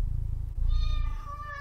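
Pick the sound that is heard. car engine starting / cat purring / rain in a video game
cat purring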